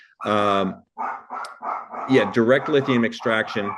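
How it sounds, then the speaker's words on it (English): A dog barks at home in the background, sharp yips and barks recurring under a man's steady speech, fairly close and insistent. "I apologize for my dog in the background,"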